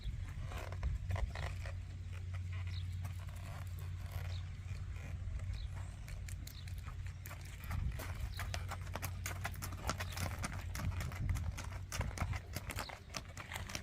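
Hoofbeats of a three-year-old dappled buckskin gaited horse being ridden in Kentucky, a steady run of soft clip-clop steps over a low outdoor rumble, with no talk.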